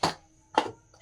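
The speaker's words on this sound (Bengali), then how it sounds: "এই দেখুন ছোট ছোট করে কেটে নেব।" Full-cream paneer chopped into small pieces with a knife, two sharp, close chops about half a second apart followed by the start of a third.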